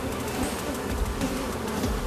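Honeybees buzzing as they are shaken off near a hive, a dense continuous drone of many insects, close and steady.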